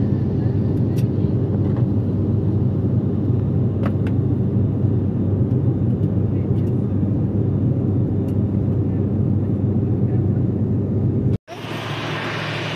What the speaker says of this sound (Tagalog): First time ko talaga na makasakay sa ganitong kaliit na eroplano na di propeller pa.